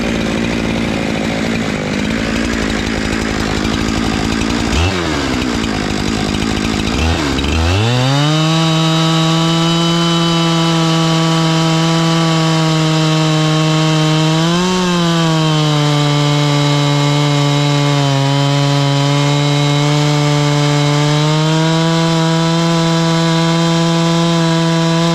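A chainsaw mill cutting boards starts at a low, uneven idle, then revs at about seven seconds into a loud, sustained whine. Its pitch holds steady through the long cut, with only slight dips as the bar works through the wood.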